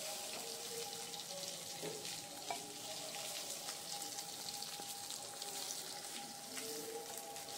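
A rohu fish head frying in mustard oil in a kadai gives a soft, steady hiss of fat with small pops and a faint clink or two, fairly quiet and continuous, and nobody speaks.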